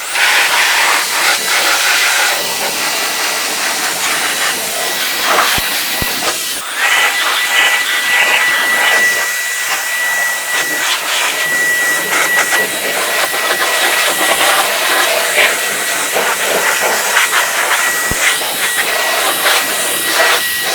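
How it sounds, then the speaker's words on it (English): A Hingso electric air duster blasts dust out of an old computer outdoors, a steady loud high-pitched hissing rush of air that runs continuously with slight fluctuations and a thin whine on top. "good time to blow out my old computer"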